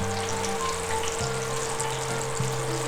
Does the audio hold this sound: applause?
no